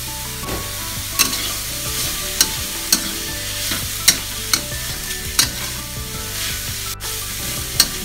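Carrots and mixed vegetables stir-fried in a pan for spring roll filling, a steady sizzle broken by regular scraping knocks of a utensil against the pan, close and loud with no voices.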